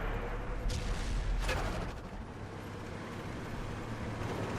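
Tank cannon fire in World of Tanks on Xbox One from an E-75: heavy booming shots over a constant rumbling engine drone, with a sharp blast about midway before the low rumble settles back.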